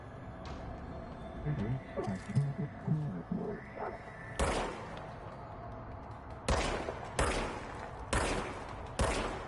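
Gunfire from the video game Control: a run of loud, sharp shots in bursts over the second half, each a broadband crack with a thudding tail, following a stretch of softer game ambience.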